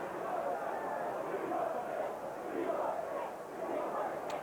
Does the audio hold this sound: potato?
no